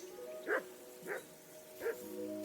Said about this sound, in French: J'imagine que tu entends les maudits aboiements de ton chien.